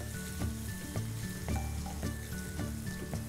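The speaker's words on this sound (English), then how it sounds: "you saute the garlic and ginger till fragrant" Crushed garlic and ginger saute in a pan with a soft, steady sizzle, broken by regular stirring scrapes and clinks roughly every half second, heard quietly and close.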